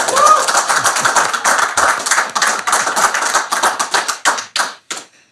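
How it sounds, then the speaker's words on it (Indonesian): An audience claps to welcome guest Sultan Saladin onto a talk show, loud, dense applause that thins out toward the end into a few separate claps before stopping. "Tepuk tangan buat Sultan Saladin."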